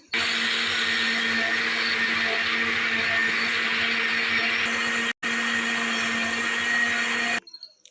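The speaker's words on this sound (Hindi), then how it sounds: "अब ग्राइंड करेंगे।" A kitchen blender grinds strawberries with sugar into juice, a loud steady whirring roar close up that cuts out for a moment, restarts, and then stops, leaving faint handling noises.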